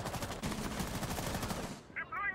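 Gunfire in Rainbow Six Siege, a burst of rapid pre-fire shots sprayed into a hole in a wall during a competitive match, rattling continuously for nearly two seconds before cutting off into quieter game sounds.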